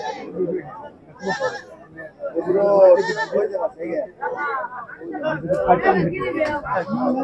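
Mother and kid goats bleat repeatedly at a crowded livestock market in Ullapara, their calls rising over steady chatter and close conversation.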